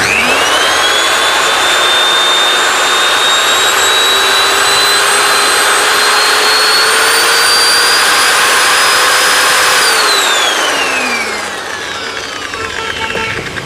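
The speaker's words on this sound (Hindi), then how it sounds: "अगर मैं मशीन चला के दिखाता हूँ, पहले मिनिमम RPM पे चला के दिखाता हूँ मैं आपको।" A drywall sander motor whines steadily at minimum speed, then its pitch sweeps upward to maximum RPM and settles with a loud, continuous mechanical roar before winding down near the end.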